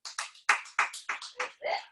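Several sharp, loud hand claps in an uneven rhythm, each a distinct burst close to the listener, with brief gaps of silence between them.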